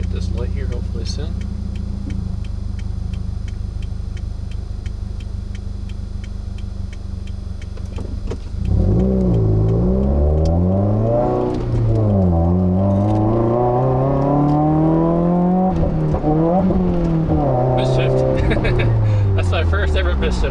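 A 2015 Subaru WRX engine idles low and steady, then revs hard in repeated rising surges as it accelerates through the gears on a twisty road, loud and close inside the cabin.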